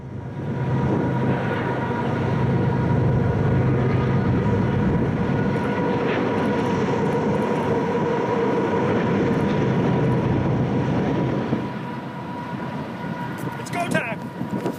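A train in the Thompson River canyon rumbles steadily with a heavy, continuous low roar that rises and holds, then fades away toward the end, backed by music.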